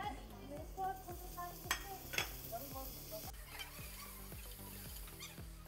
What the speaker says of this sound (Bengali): এবার আমি টমাটার কুচি দিয়ে দিই।